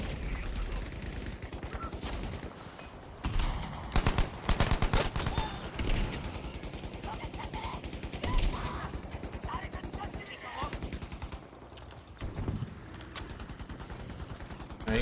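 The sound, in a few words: counter fire gunshots in a video game battle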